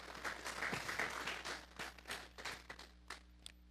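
Applause from a church congregation after a call to clap for the Lord, a moderately quiet scatter of hand claps for several seconds that thins out toward the end.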